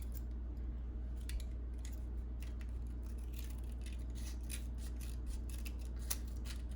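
Scissors snipping through a plastic bottle, faint repeated crisp cuts and rustles over a low steady background hum, no voices.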